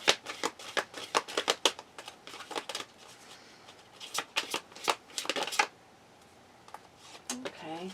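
Tarot cards being shuffled by hand in a series of quick, crisp riffling bursts, close and fairly loud, stopping briefly before a final flutter; a voice speaks faintly near the end.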